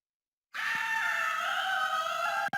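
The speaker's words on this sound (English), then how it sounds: "Kinda cut the scream off early there" A long, loud, sustained scream from the video game OverBlood holds steady for about two seconds and then stops abruptly, cut off mid-cry with a brief gap.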